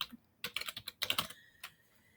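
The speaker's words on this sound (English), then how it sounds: "I'm going to type it again" Keys clack on a computer keyboard while a name is typed into laser engraving software for making pet ornaments. The quick taps come in two close bursts, then a final lone keystroke, all near and fairly quiet, with no speech.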